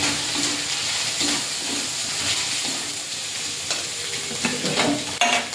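A spice paste of chilli powder, coriander powder and cumin paste is stirred and fried in a pan, giving a close, continuous sizzle and hiss with scraping strokes from the stirring.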